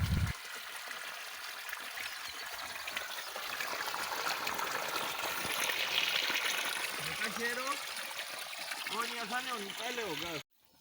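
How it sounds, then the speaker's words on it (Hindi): Water from a leaking pipe spills out of garden plant beds, a soft steady trickle and gurgle running for several seconds, with someone speaking faintly near the end. "पानी जो है वो फिर क्यारियों से बाहर आ जाता है इस तरह से"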